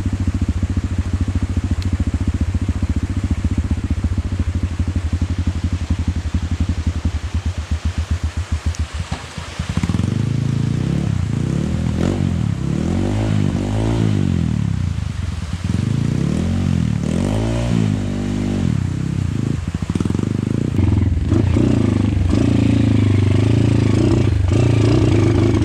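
A trail motorcycle climbing a steep dirt slope, its engine first chugging at low revs, then roaring loudly in repeated rising and falling revs as the throttle is blipped, close and dominant throughout.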